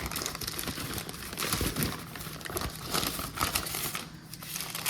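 Plastic packaging around an American Wagyu top sirloin filet is torn and crinkled open, a run of close, quiet rustling and crackling bursts with no talk.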